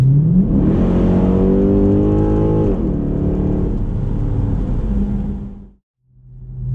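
A cammed 2006 Chrysler 300C SRT8 V8 with aftermarket exhaust, intake and tune revs up hard, holds a loud rumbling tone, then drops away and cuts out briefly before the lumpy idle returns.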